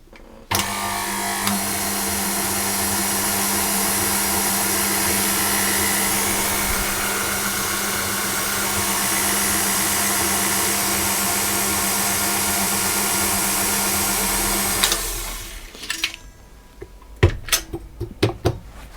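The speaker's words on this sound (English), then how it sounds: "I'm going to put the vital wheat gluten and the salt, and I'm simply going to mix those together." An electric mixer whirs steadily while blending bagel dough with vital wheat gluten and salt, a loud, even motor hum that runs for about fifteen seconds, then stops, leaving scattered clinks and knocks.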